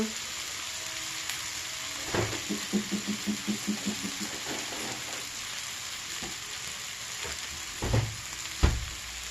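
Tomato fries in a pan while wheat rava and peas pulao is being made, giving a soft, steady sizzle with a short run of rhythmic stirring taps and a couple of louder knocks near the end.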